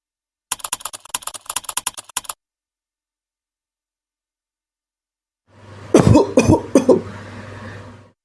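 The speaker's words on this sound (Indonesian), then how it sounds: "kok aku sering batuk ya sekarang?" A short burst of rapid keyboard typing, a pause of silence, then a person coughs a few times in quick succession, close by.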